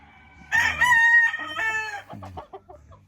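Boston Roundhead gamefowl at a backyard rooster farm give a loud, close crow that runs for about a second and a half, then trails off into several shorter clucks and calls. No one speaks.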